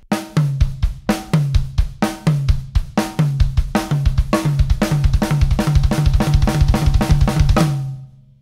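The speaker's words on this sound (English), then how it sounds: "doing a right left with the hands and then a right left with the feet" A drum kit plays a groove with double kick pedal work, alternating hands right-left and then feet right-left. The hits are sharp and evenly spaced, heard close and loud with no talking, and the pattern tightens into a denser roll near the end.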